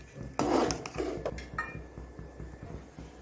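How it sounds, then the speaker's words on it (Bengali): A utensil scrapes and clinks against a pot while stirring vegetarian khichuri spices with ginger paste, cumin paste and sugar, a few sharp metallic knocks at first followed by softer, irregular scraping close by. "এবার একটু ভালো করে নাড়াচাড়া করে নেব"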